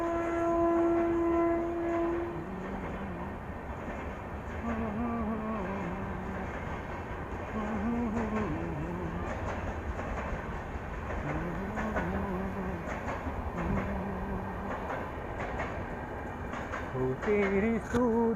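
A passenger train rolls along, heard from inside a carriage, with a steady, loud rumble and rhythmic clatter of wheels on rails throughout, plus brief tonal squeals and hums, and no clear talk.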